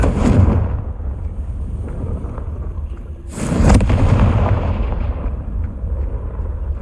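A Confringo blasting spell in Hogwarts Legacy on PlayStation 4 Pro gives a booming explosive burst at mid-clip. It is set against a steady, dense rumble of game combat that starts loud and then eases.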